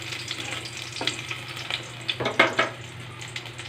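Garlic frying in hot oil in a pan for a sautéed vegetable dish: a steady close sizzle and crackle with a few louder spatters and scraping stirs toward the end.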